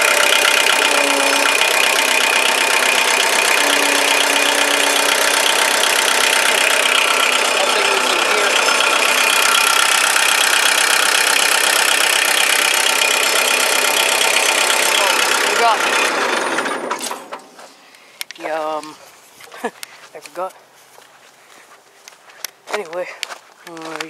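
A Bobcat 3023 trencher tractor's engine idles with a steady, close mechanical rumble for about sixteen seconds, then someone talks over a quieter background with scattered knocks.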